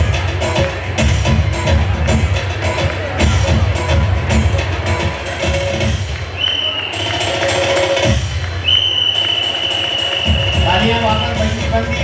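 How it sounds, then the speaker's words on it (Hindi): Audience applause at an Indian community award ceremony, dense steady clapping that dips midway and then returns, with an announcer's voice speaking over it in places. "तालियां वापस बंदी हो गई"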